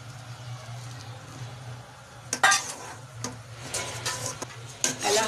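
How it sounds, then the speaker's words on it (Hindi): Mango custard is stirred into boiling milk in a metal pot, with a low bubbling simmer under sharp spoon clinks and scrapes against the pot that come in bursts during the second half. "दूध को उबाल आ चुका है, अब इसमें डालेंगे मैंगो कस्टर्ड"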